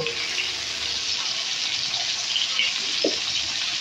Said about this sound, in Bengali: আর ভালো করে নেড়ে চেড়ে লাল লাল করে সব কিছুকে ভেজে নেব।